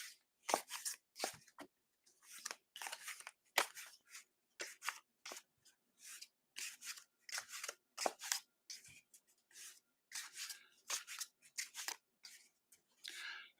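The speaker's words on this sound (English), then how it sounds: "And I'm going to shuffle the cards." Tarot cards are shuffled repeatedly, a steady series of quick crisp riffling bursts close by with short pauses between them.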